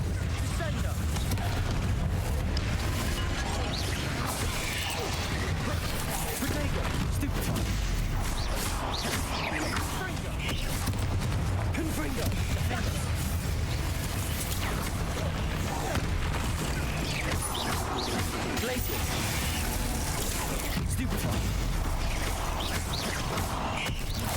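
Confringo blasting spells in the video game Hogwarts Legacy, heavy booms and crackling blasts piling into a dense, continuous barrage of combat noise with a voice talking over it.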